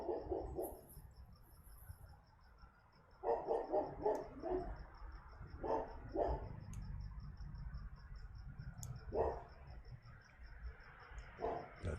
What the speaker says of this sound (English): Let the dog barking come into your thought and then let it pass like a cloud in the sky.